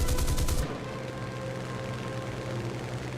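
Burst of rapid aircraft gunfire from a fighter plane in a flight combat video game, a loud rattling volley lasting about half a second before cutting off into steady engine drone.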